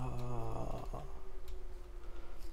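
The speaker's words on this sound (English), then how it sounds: "somebody sleeping, snoring like a mother trucker" Someone sleeping and snoring in the horror video game Wick: a low, droning rasp that starts with a tonal hum and settles into a breathy, pulsing rumble, moderately loud and unaccompanied.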